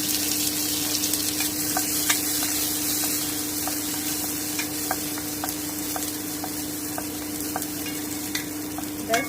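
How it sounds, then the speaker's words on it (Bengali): Raisins fry briefly in a small amount of melted ghee in a pan, giving a steady loud sizzle with stirring scrapes and clicks running throughout, close and without talk. "এবারে আমি কিশমিশগুলো খুব সামান্য একটু ভেজে নিচ্ছি এক মিনিট মতো"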